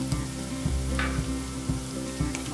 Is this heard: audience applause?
no